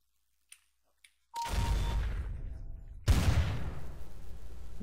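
Video game gunfire: two faint clicks, then a loud burst of shots erupts at about 1.3 seconds, and a second loud shot or burst comes near 3 seconds, each followed by sustained rumbling decay. No one speaks.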